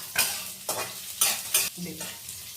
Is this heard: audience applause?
no